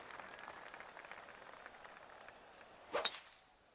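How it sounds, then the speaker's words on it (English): Applause from a golf gallery in PGA Tour 2K25 after a shot on a par 5 hole, a faint steady patter of clapping that ends in a brief louder burst. "they're clapping, so it must be decent"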